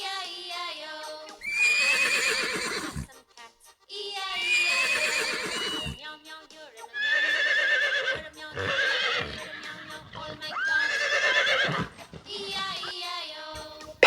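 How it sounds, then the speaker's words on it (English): Horse whinnying repeatedly, several shrill neighs with trembling ends and short pauses between them, close and loud. "Horse."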